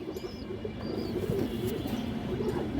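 Large army breed pigeons, female birds, cooing in a loft, low repeated throaty coos layered over steady background noise with a few faint higher chirps.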